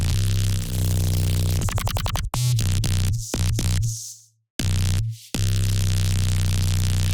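Heavily distorted, compressed sine sub bass in a Doom-style IDM prog-fusion beat, loud and gnarly, in stuttering chopped bursts with abrupt cuts to silence.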